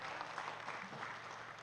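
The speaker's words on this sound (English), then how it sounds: "Please clap for him very well." Audience applause at a World Pharmacists Day event, a steady wash of clapping that fills the whole short stretch at moderate level with no break.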